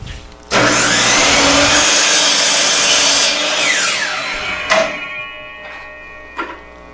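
A power saw slices a piece off a wooden board for a scalloped-edge bowl, a loud sustained whining cut of about four seconds that fades as the blade winds down, followed by two short bursts of the saw.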